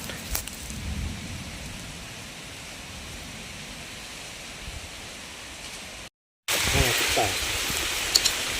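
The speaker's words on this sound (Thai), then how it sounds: "ฝนตกแล้วครับผม" Steady broadband hiss of rain falling outdoors during a fishing trip in strong wind, continuous and fairly loud, briefly cutting out then returning stronger with faint rustling.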